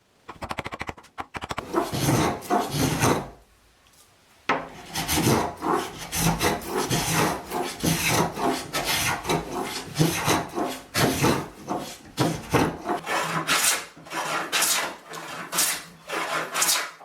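A rasp shapes a wooden leg for a valet stand, making steady, close rhythmic rasping strokes, with a brief pause early on before the scraping resumes and continues to the end.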